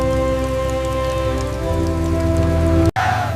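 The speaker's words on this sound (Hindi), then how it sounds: "चलिए पिताजी, बारिश तेज हो रही है।" Heavy rain pours steadily in a village wheat field, a dense continuous wash of drops under a low tonal hum, briefly cut by a sharp dropout near the end before the downpour resumes.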